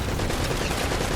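A short, loud burst of rapid turret gunfire from Uncharted: Drake's Fortune, a continuous rattling stream of shots filling the whole moment, with no talking.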